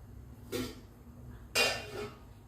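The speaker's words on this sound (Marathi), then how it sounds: "याच्यावर ठेवलं झाकण." A metal lid set onto a pot of water heating on the stove, two brief scraping clinks about a second apart, the second louder, close by against a quiet low hum.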